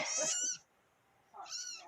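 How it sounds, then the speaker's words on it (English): A one-month-old kitten crying for its mother gives two high, loud meows close up, separated by a brief quiet pause. "what are you meowing about?"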